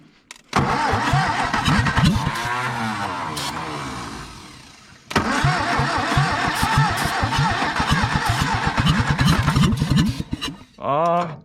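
A 1962 Hillman Minx engine cranks hard after sitting for 40 years, with rapid rhythmic chugging that stalls, pauses, then resumes with loud, close churning before a brief cough at the end.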